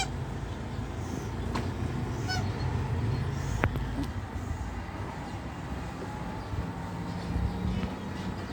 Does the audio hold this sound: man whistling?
no